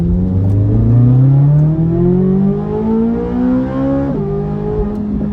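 A C8 Corvette engine climbs steadily in pitch under full throttle, shifting once and pulling hard again, loud and close.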